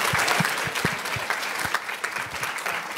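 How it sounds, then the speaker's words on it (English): Audience at a girls' leadership summit applauding, a dense, even roar of many hands clapping with a few stronger claps, sustained and close. "Will everybody please join me in giving them a round of applause?"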